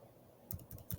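A few quick clicks on a computer keyboard as a phone number is typed into an online form, close and quiet, following a brief pause.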